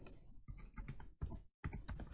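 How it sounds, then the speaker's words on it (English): Fast typing on a computer keyboard, a dense run of close, soft key clicks with one brief pause, quiet and alone. "so whenever you are typing like that"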